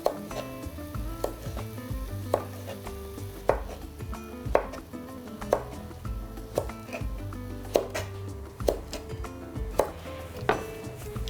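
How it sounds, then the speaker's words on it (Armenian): A knife chops food into sticks on a board for a chicken heart and mushroom salad, with crisp, evenly spaced strikes about once a second, close and alone without speech. "Որից հետո կտրատում ենք ձողիկների,"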